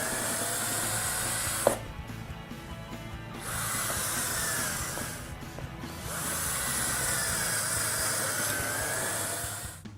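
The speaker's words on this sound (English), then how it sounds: "with your 1/8 inch drill bit, drill 4 pilot holes on your marks" Power drill with a 1/8 inch bit boring pilot holes for a storm door closer bracket, two long, steady high-pitched whirring runs with a brief pause between, close and continuous.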